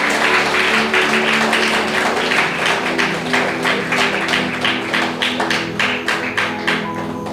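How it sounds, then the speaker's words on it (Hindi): A church congregation claps for God during a Sunday sermon, a loud close run of rhythmic claps that slowly thins and fades toward the end, with a faint sustained tone underneath. "क्यों ना जोरदार ताली बजाए परमेश्वर के लिए।"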